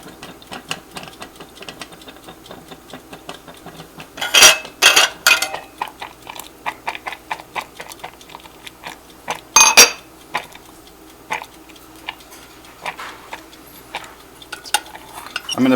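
A glass Pyrex Flameware percolator perks off the heat on a grate, giving irregular bubbling pops and gurgles, with two louder splashy bursts that gradually thin out and slow.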